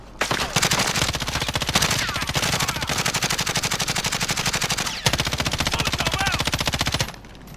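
Rapid automatic gunfire in a PlayStation 4 video game rattles in long, loud, dense bursts with a brief break near the fifth second, and voices talk faintly beneath the shooting.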